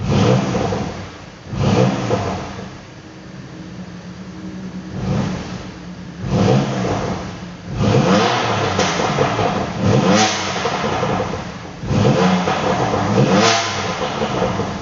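A BMW M2 engine revs again and again nearby, each surge rising and falling in a roughly regular rhythm, with exhaust pops and crackles between the loud blips.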